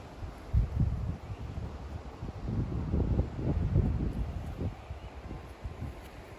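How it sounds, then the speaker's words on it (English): Gusty wind buffets the microphone in low rumbling surges in a garden, rising and falling throughout, with a faint rustle underneath. "It's a windy day today."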